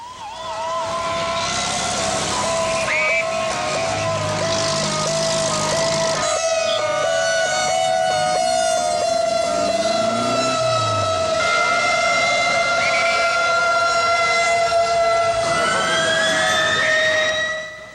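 Several emergency sirens wail continuously in a busy city street after an earthquake in Mexico City, overlapping rising and falling tones with a fire-truck style siren loud and close, no talking.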